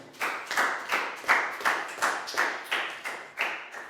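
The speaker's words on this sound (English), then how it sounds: "Big round of applause for Pangpon." A class of Year 4 students claps for a classmate during a health lesson, about ten evenly spaced group claps in a steady rhythm, fairly close and alone without talk.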